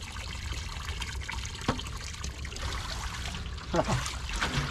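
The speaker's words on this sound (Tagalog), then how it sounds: "Para kita nyo yung pag salok-salok ng tubig yan" Water sloshes and trickles as it is scooped, with a couple of distinct splashing dips over a steady running-water background.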